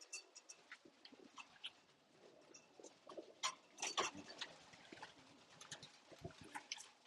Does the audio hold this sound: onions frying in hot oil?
no